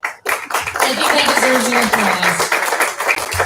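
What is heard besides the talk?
audience clapping and applause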